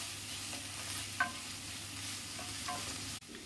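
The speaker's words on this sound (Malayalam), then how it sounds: "ഇനി നമുക്ക് നല്ലതുപോലെ ഒന്ന് വഴറ്റിയെടുക്കാം." Kadala curry base of black chickpeas sautéing in a pan, a soft continuous sizzle with faint scrapes and stirring clinks, quiet and close, ending in a brief knock.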